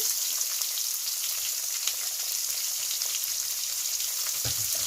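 Sliced onions fry in a pan for vegetable noodles, giving a steady, fairly loud hiss and crackle that runs unbroken throughout with no talking.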